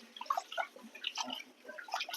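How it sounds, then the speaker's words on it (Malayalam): Rice being washed in a bowl of water in a home kitchen: soft, faint splashes and trickling drips come in small irregular bursts, fairly close but quiet. "2-3 വെള്ളത്തിൽ ഒന്ന് കഴുകാം."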